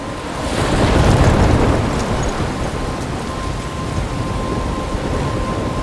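Thunderstorm in the video game Life is Strange: a dense, steady roar of rain and wind with a deep rumble of thunder swelling early on, loud and continuous, with no voices.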